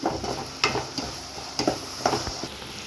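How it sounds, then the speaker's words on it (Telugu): Tomatoes frying in a pan for masala boti curry give a steady close sizzle broken by several sharp stirring scrapes and clacks, with no talk. "టమాటాను కూడా కొంచెం దగ్గర అయ్యేదాకా మంచిగా వేయించుకుందాం."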